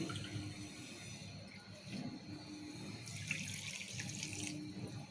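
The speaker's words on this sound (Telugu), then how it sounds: "సగం వాటర్ పోసుకున్నాము" Water runs and splashes quietly into a vessel as half a cup is added to sugar for making syrup, a soft, continuous trickle close by.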